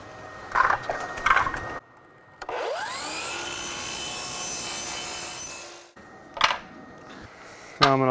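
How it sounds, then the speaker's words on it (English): Power miter saw slicing through wood trim set at a 45-degree angle, a single loud whining cut lasting about three seconds after the blade spins up, with brief knocks and handling sounds of the trim before and after. "I'm going to cut all the way at the back."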